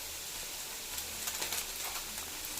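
Ginger garlic paste frying in a pan for egg rice, giving a steady, close, even sizzling hiss with no talk.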